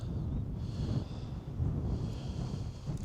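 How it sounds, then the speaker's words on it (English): Wind gusts buffet the microphone outdoors during trout fishing with booby flies, a steady low rumble that swells and eases throughout, with no talking. "That wind's really picking up here."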